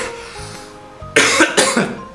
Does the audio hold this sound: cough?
yes